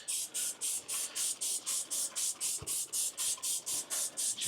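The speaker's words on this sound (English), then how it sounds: "Give that a spray," Cleaner sprayed in repeated, evenly spaced bursts inside a hot pizza food truck, about a dozen close, loud hissing pumps in steady rhythm with faint background clatter.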